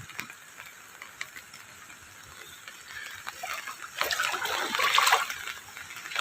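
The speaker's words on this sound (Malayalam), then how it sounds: "എന്ത് ഒഴുക്കാണ് ഇവിടെ നല്ല ഒഴുക്കാണ്" Strong flood water rushes along a field path toward a river, a continuous gurgling, trickling flow with clicking, rattling bits that swells louder toward the end.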